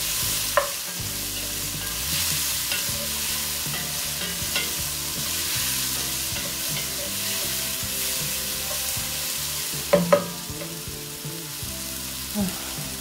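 Onions and shallots with a spoonful of sugar cook gently in a pan for a rabbit and mustard stew, a steady sizzle with occasional stirring clinks and scrapes, close, no talking.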